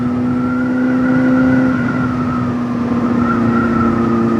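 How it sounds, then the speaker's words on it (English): A car passes on a road, heard as a loud, steady engine drone with sustained humming tones that carries through the whole stretch, with no talking. "Oh, I can hear a motorbike. No, it's a car."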